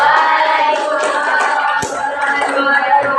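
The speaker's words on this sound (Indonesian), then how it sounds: "Tepuk tangan dulu untuk kelompok 3" A classroom group claps for a presenting team after their talk, a dense, steady patter of many hands held at an even level throughout, close by, with a sharp louder slap near the middle and no talk over it.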